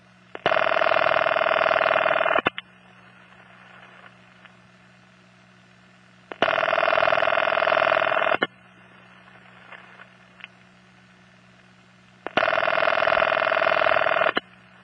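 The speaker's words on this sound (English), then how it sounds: "Ben and I believe that the earliest automatic exchanges in New York, that is, exchanges where the phones had dials on them, rang like this in the 1920s and 30s" An early 1920s–30s New York automatic telephone exchange rings with a raucous, buzzy tone in three long bursts of about two seconds each. Roughly four-second silences separate the bursts, and faint line hum runs under the quiet gaps.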